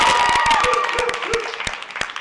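A crowd at a political candidates' forum in Albuquerque applauds, with sustained clapping that thins toward the end while a voice talks over it.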